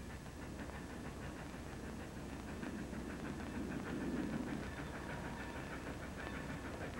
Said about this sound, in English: My train.